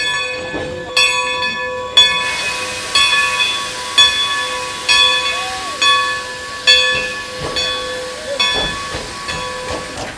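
A coal-fired steam locomotive on the Strasburg Railroad in Pennsylvania hisses and chuffs in a steady rhythm of regular exhaust beats, with sustained whistle-like tones over the top, heard fairly close with no talking.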